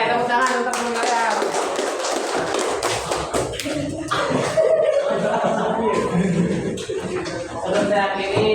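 Students in a classroom clap for a classmate, a burst of scattered hand claps mixed with chatter and light laughter that thins out toward the end.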